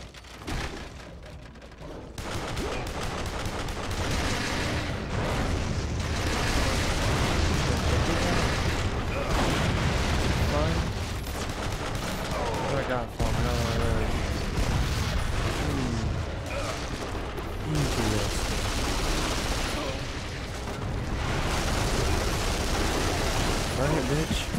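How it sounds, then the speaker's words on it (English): A rocket launcher fires again and again in the shooter Duke Nukem Forever, heavy booms and explosions piling into a dense, loud, continuous barrage under a player's running commentary. "Shooting rockets now."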